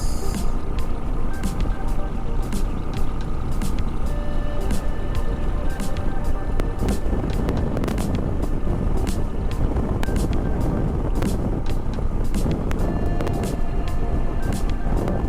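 A Thunderbird 500cc motorcycle engine drones steadily on a highway between Hyderabad and Bangalore, loud and continuous, with heavy wind buffeting over it throughout.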